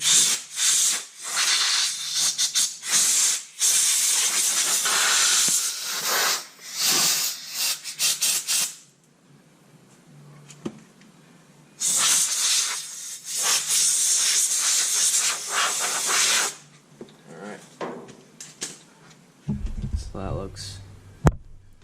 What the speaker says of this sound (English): Now we'll get the air nozzle. Just gonna blast it out back here.